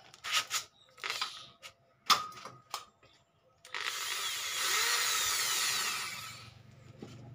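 A power drill bores into a solid iron bar. Several short clicks and knocks of setup come first, then the drill whines in a steady, continuous run for about three seconds before tapering off.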